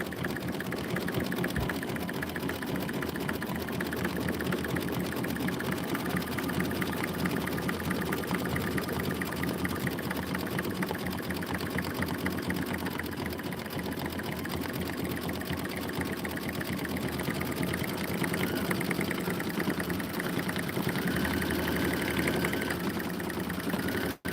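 An embroidery machine stitches a Kimberbell sun-themed design in a long, continuous mechanical whirr with steady fast needle strokes, close and unbroken, with no talking.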